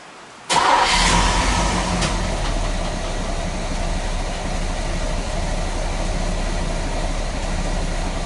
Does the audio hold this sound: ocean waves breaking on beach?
no